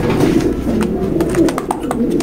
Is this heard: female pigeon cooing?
yes